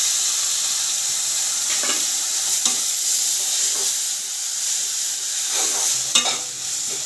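Masala of ground tomato, turmeric and spices frying in a pan for a Falui fish curry: a steady, loud sizzling hiss, with several brief scraping stirs spaced through it and no talking.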